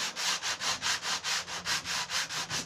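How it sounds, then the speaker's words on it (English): Garden furniture wood being sanded by hand, a steady back-and-forth rasp repeating about five times per second, close and alone. "We sand a small area of the wood"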